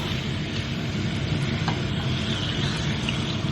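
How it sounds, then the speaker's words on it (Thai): Marinated pork ribs are stir-fried with salt in a pan, giving a continuous, fairly loud sizzle with a scraping stir layered on top, heard close and alone. "ผัดให้เข้ากันนะครับ จะทำให้ตัวสามเกลือเนี่ย เข้ากับตัวซี่โครงหมูหมักของเรา"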